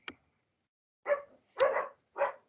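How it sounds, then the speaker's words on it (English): Dogs bark nearby in short, sharp bursts: one brief yip, then three louder barks spaced about half a second apart, with silence between. "Sorry about the dogs."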